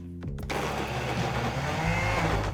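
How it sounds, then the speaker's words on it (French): An electric blender whirs loudly and steadily after a brief start-up, blending ricotta, dried tomatoes and olive oil into a spread, with a dense, gritty motor roar that shifts slightly in pitch as the mixture churns. "Et on met tout ça au mixeur."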